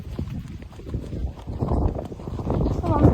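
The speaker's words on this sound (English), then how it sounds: "Nice little trot going." Horses Sybil and Teddy out hacking, their hooves clip-clopping in a steady trot that grows louder and busier, with a rider talking over the hoofbeats.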